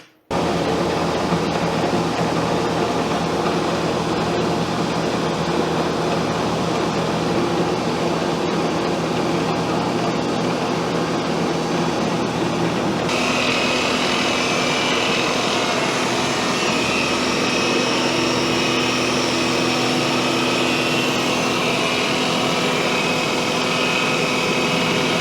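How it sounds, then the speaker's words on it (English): Milling cutter taking a side-profile cut on brass held upright in a fixture for a pocket level, a steady loud continuous machining roar throughout with no talk. "come in with the cutter and cut just a side profile like so"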